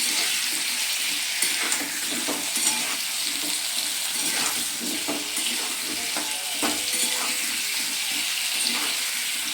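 Potatoes fry in a pan with a dense, loud, continuous sizzle and hiss, broken by occasional stirring scrapes, heard close with no voices.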